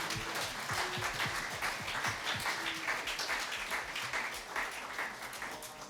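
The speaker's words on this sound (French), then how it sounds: "Est-ce qu'on peut acclamer notre Dieu ce matin?" A church congregation breaks into steady, enthusiastic applause during a Sunday worship service, a dense wash of clapping hands with faint voices mixed in.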